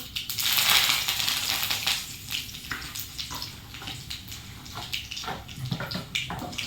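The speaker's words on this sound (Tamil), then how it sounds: "கடுகை வந்து பொரிய ஆரம்பிச்சிருச்சு" Mustard seeds spluttering in hot oil in a pan, a dense crackling sizzle with bursts of popping that rise and fall, close and without speech.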